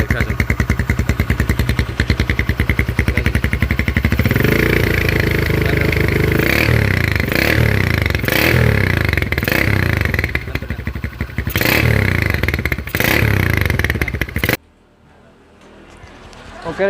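A Honda GL motorcycle fitted with a custom exhaust revs hard and close, its engine rising and falling in a series of throttle blips before cutting off and leaving near silence at the end.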